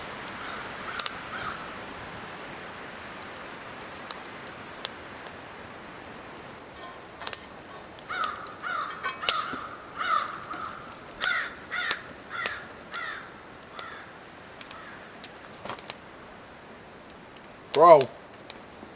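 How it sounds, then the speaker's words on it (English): Crows caw in scattered bursts across a quiet wilderness setting near a rustic log cabin, with faint background patter and one louder, closer call near the end. "Crow."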